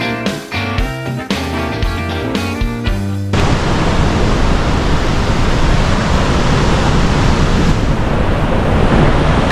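Heavy rain pours steadily during a journey through hilly Kerala between Munnar and Kochi, a loud, dense broadband roar that takes over after a few seconds of music and continues unbroken to the end.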